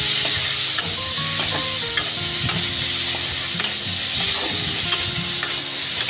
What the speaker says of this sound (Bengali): এরপর আবারও সমস্ত কিছু খুব ভালো করে নেড়ে নিচ্ছে